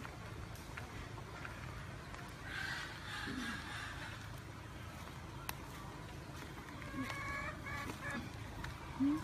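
Faint clucking and occasional squawks from chickens drift over a quiet, noisy outdoor background, scattered and distant.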